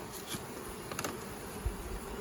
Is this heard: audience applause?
no